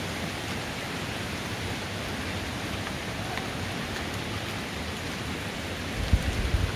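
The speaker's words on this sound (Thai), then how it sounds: "เสียงฝนตกแล้วค่ะแต่ในป่านี้คือยังไม่โดนเม็ดฝนเท่าไหร่" Steady rain hisses across a wide forest, an even wash of drops falling on the canopy with a few closer taps near the end.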